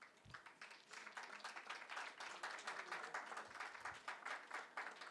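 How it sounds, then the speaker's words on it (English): Audience applause for the panelists at a women entrepreneurs and leadership event, a fairly faint but continuous patter of many hands clapping that holds steady for several seconds. "A big round of applause for all the panelists once again."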